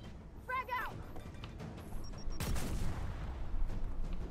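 A frag grenade goes off in the video game Gears of War 4: after a few short electronic chirps, a sudden loud blast hits midway and leaves a rumbling, crackling tail of combat noise.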